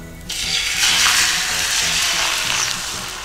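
Beaten egg poured into a frying pan heated over medium heat with sesame oil, bursting into a loud, steady sizzle right after a brief quiet start and crackling on close-up.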